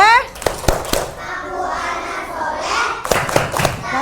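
Schoolchildren in a classroom clap a rhythmic chant, with sharp hand claps in short bursts between stretches of children's and a teacher's voices.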